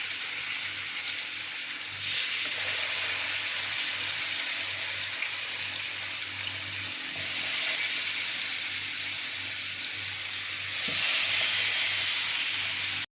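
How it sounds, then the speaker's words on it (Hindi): Chicken pieces frying in hot oil over a high flame, giving a loud, steady, close sizzle that runs throughout with slight shifts in intensity and no talking. "अब हम चिकन को 2 से 3 मिनट हाई फ्लेम पर फ्राई करेंगे।"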